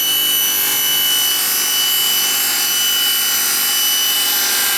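Table saw blade spinning and cutting through a wooden dowel while a zero-clearance insert is fitted, a loud, steady, high whine that holds evenly throughout with no voices.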